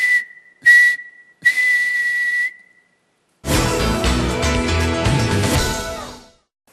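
A human voice imitates a referee's triple whistle with three sharp, high whistled blasts, the first two short and the last held longer, followed by a burst of music.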